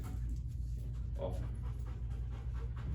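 A police narcotics dog pants steadily and close by, rhythmic breathing sustained across a few seconds with faint voices and handling noise underneath.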